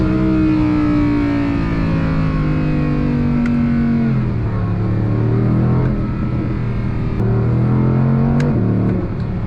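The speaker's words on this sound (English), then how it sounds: "Let's now do a launch control of the Audi R8 V10 really quick." A 2024 Audi R8 V10 supercar launches hard under launch control: a loud, continuous engine roar climbs steadily in pitch, drops sharply at a gear change and climbs again, holding a rasping, close, sustained howl throughout.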